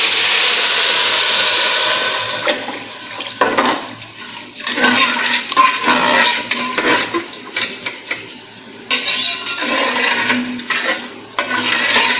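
Water poured into hot ghee in a cooking pot sets off a loud rushing hiss, followed by uneven bursts of sizzling and bubbling that rise and fall over several seconds.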